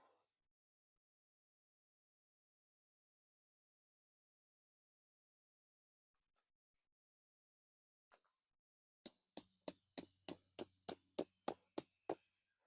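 A quiet stretch, then a steady series of about ten sharp metallic strikes in even rhythm, hammer blows driving tent stakes, fairly faint.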